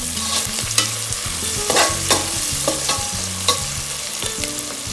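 Onions fry and are stirred in a pan for chicken biryani, with steady sizzling and repeated scraping stirs at close range, alone without any talk.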